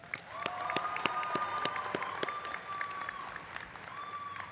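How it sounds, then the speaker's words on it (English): A commencement audience gives a graduate speaker moderate, even applause from a wide crowd, with sustained tonal hums running underneath. "Let's give her a round of applause."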